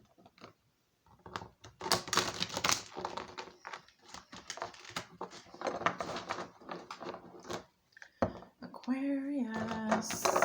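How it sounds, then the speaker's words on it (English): Tarot cards riffled and shuffled in quick bursts of crisp, papery patter, several rounds close up, with a brief tonal squeak near the end. "Let's get some good shuffles here. Give me 3 good shuffles."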